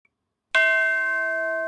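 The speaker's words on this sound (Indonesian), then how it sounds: "Lonceng di aula latihan pun tiba-tiba berbunyi kencang" A single loud bell strike in a training hall rings out after a moment of silence, its bright metallic tone sustaining and slowly fading.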